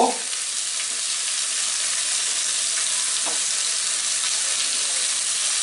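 Spices for a Punjabi dhaba-style matar masala fry in a pan, giving a loud, constant close-up sizzle and hiss with a brief stir at the start and no voices.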